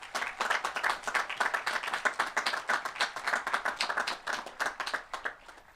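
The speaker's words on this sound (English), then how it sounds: "So let's give a round of applause to everyone who has contributed to our growth." At a high school graduation commencement ceremony, an audience claps with distinct, fairly quick individual hand claps. The clapping is moderately faint and sounds a little distant, and it keeps a steady, even pace throughout.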